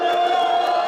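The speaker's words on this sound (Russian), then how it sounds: "Первое место, ваш шум и аплодисменты." Crowd at an esports award ceremony for a DotA tournament: a loud, sustained roar of cheering and shouting, with a held tonal bellow running through it, close and full.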